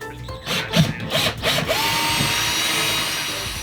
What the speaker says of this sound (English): drilling holes through the rubber flooring to match the holes that I drilled through the metal